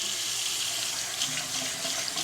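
Water runs steadily from a bathroom sink tap, a continuous close hiss and splash with no voices.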